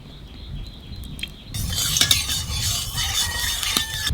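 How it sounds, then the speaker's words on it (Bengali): Potatoes fry in a pan with a steady sizzle, stirred by a metal utensil that scrapes and clinks sharply against the pan, the sizzle growing louder partway through. "প্রথমে আলু ভাজিয়ে নেব।"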